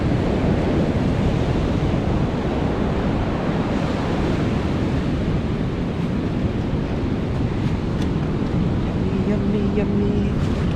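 Small surf waves wash onto a beach in a steady, continuous roar with wind buffeting the microphone, a low murmur of voices faintly underneath.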